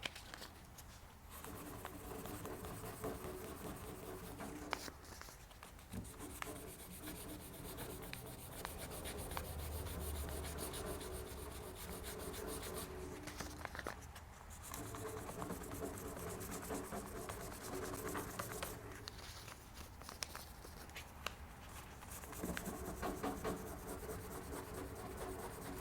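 Dry 2500 grit sandpaper is rubbed by hand over a painted surface, giving a faint, soft scratching with repeated strokes and brief pauses between passes.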